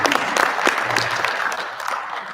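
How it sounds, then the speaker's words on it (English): An audience at a professionals' town hall meeting breaks into applause, a dense, fairly loud clatter of clapping that carries on steadily and thins slightly toward the end. "let's give a round of applause"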